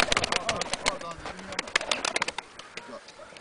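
Pigeons coo and flutter around a village in Kars, Turkey, in summer, with soft repeated calls and scattered bird noise under nearby people talking.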